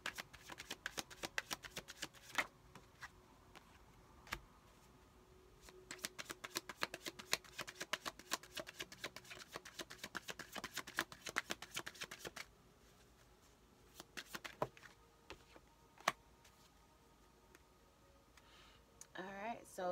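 A deck of tarot cards being shuffled in a quiet room, giving long bursts of rapid, crisp riffling clicks that stop and start several times, with a short pause midway and a brief flurry at the end.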